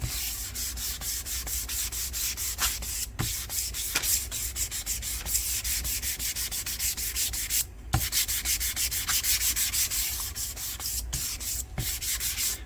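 A northern ash guitar body is hand sanded with 320 grit dry sandpaper, a steady close rasping rub in rapid back-and-forth strokes with a few brief pauses.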